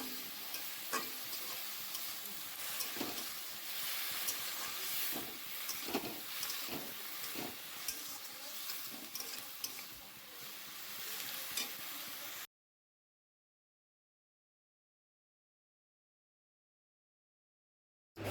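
Fish oil frying in a pan in a home kitchen, a continuous hiss with scattered crackles and stirring scrapes for about twelve seconds, then sudden silence.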